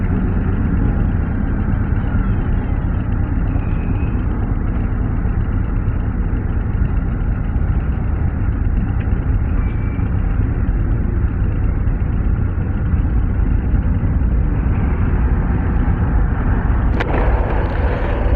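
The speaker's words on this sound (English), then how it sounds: "I love the sound of this bike, man." A 2024 Harley-Davidson CVO Road Glide ST motorcycle engine runs steadily, a constant deep rumble with a dense low-end pulse, heard close up and without talk.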